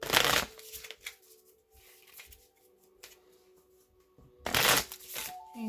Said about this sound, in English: I'm going to choose some Island Time Wellness cards to wrap up your reading today